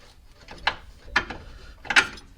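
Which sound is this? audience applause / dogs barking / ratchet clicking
ratchet clicking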